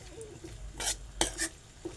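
Ambadi leaves being stir-fried in a pan, with a few quick spatula scrapes and clinks over a faint low hiss, close but quiet, with no voices.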